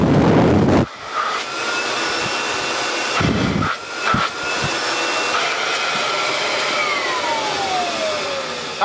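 A Kirby Legend 2 vacuum runs in blowing mode with its inflator attached, a loud, steady whooshing drone with a few sharp interruptions early on and a pitch that slowly falls toward the end.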